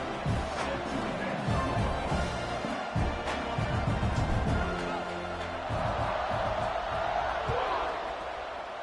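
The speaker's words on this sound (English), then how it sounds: "You think this crowd's going to get loud when their defense comes on the field?" A football stadium crowd roars steadily as the defense takes the field, a dense continuous wash of cheering and shouting, loud and distant, with a commentator talking over it.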